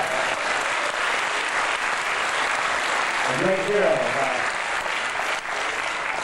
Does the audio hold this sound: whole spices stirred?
no